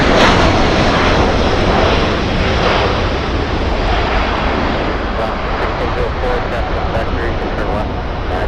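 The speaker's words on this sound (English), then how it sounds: "Two-for-one special with Alaska Airlines 1604 flying in from San Francisco" An Alaska Airlines jet, flight 1604 from San Francisco, comes in to land at LAX with a loud, continuous engine roar that holds steady close by, while air traffic control radio chatter runs underneath.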